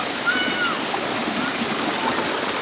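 Steady close rushing water from Apa-Apa Falls in Agusan del Norte, an even hiss and splash with a short vocal sound heard faintly over it.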